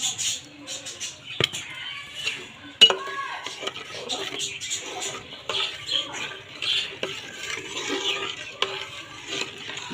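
Boiled date palm jaggery is poured into a pot of simmering rice payesh and stirred in, giving close, irregular scraping and clinking of a spoon against the pot, with soft bubbling and a voice speaking intermittently beneath.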